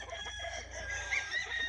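Free-range fighting roosters at a gallera, crowing and clucking in a steady layered chorus, with one clearer crow rising partway through over a constant low hum.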